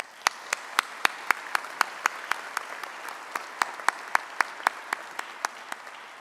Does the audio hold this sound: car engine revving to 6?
no